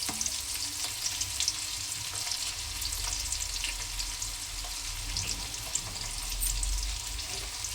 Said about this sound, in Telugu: వేసి అలా బాగా ఫ్రై చేసుకోవాలి.